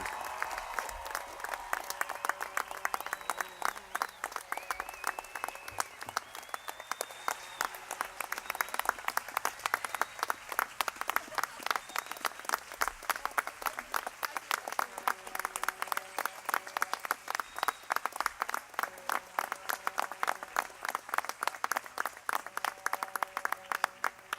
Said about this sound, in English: Please let's give one big round of applause and recognize these fabulous graduates, 2017.